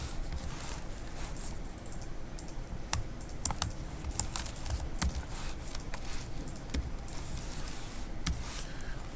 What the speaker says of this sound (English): I can just type in the same thing here.